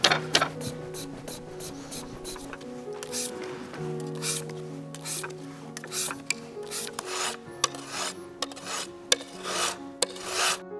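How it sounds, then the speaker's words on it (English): Rasping file strokes work across a piano hammer, short scraping bursts repeating in an uneven rhythm, close and fairly quiet, with a steady sustained tone underneath. "filing this little bit off here or moving this hammer just slightly this direction"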